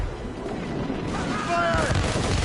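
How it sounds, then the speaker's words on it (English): Incoming mortar fire in the video game Assassin's Creed Rogue, a dense rumbling barrage of booms and a whistling shell, loud and continuous, with a voice shouting over it. "Mortars incoming, sir!"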